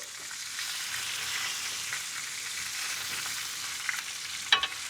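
Fish fries crispy in a pan with a steady, soft, hissing sizzle throughout, fairly quiet, with a couple of faint clinks near the end and no talking.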